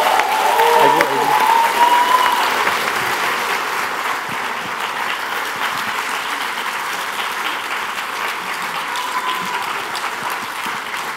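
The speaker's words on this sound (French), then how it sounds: "vous pouvez continuer à les applaudir, ils ont bien bossé" A theatre audience claps at the Swiss final and prize ceremony of a thesis-in-180-seconds contest, loud, dense applause at the start that settles into steady sustained clapping, with brief crowd murmur near the beginning.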